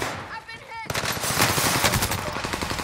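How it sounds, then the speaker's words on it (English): Bursts of automatic gunfire in the video game Call of Duty Warzone, loud rapid rattling shots following a brief electronic sound, continuous for a couple of seconds. "Enemy soldier nearby. Keep shooting."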